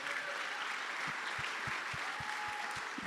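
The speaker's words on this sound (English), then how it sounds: "Yes, please give him a round of applause." Audience at the Startup World Cup Virginia finals giving a round of applause, a soft, even crowd clapping sustained throughout, with regular low thumps pulsing underneath.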